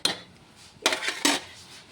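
Metal utensil scraping and clanking inside a pot of raw mango chutney, three short bursts of stirring with quiet gaps between.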